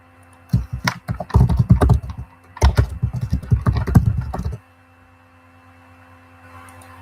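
Fast computer keyboard typing in two bursts of rapid, close clicks, entering a search for Google's Big Vision library, then stopping into quiet room tone.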